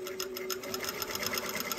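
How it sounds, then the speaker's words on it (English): A sewing machine stitches a garment collar around the curved neckline, a steady fast needle rhythm with a faint hum, close and alone. "sewing with a camera between you and the sewing machine isn't ideal either"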